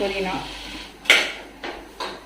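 A metal spoon knocks and clinks against a cooking pot as a handful of mint leaves is stirred and sautéed for biryani: three sharp, separate strikes after a brief stretch of a faint voice and kitchen noise.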